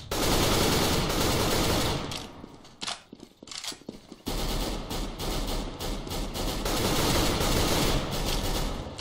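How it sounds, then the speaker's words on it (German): Rapid bursts of gunfire in Counter-Strike: Global Offensive, sustained automatic rattling that breaks into scattered single shots before resuming, loud and close. "Ich hab irgendwo geschossen"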